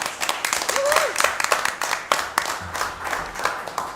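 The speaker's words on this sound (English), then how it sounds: "a round of applause for Dottie Parham-Whittier" Scattered applause at a city council meeting, a modest group clapping with distinct individual claps, and a few voices mixed in.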